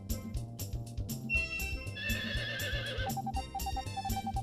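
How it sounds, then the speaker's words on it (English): A cartoonish horse neighs in Harvest Moon 64, a clear, close whinny over bright game music with a bouncy rhythm. "You can call the horse with the left C button."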